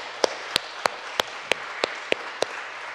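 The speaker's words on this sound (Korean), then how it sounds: "우리 감사 영광의 박수를 하나님께 올려드리겠습니다" A congregation claps during a Sunday church service: sharp, evenly spaced claps land about every third of a second over a steady hiss of room noise.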